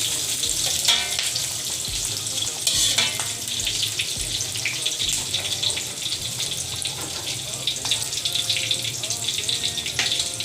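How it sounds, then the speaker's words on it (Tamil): Chopped small onions fry in oil for a chicken kofta curry, a continuous bright sizzle with scattered clinks and stirring scrapes throughout, close and fairly loud, with no talking. "இதெல்லாம் பொரிஞ்சதுக்கப்புறம் வெட்டி வச்சுருக்க சின்ன வெங்காயம் சேர்க்கலாம்"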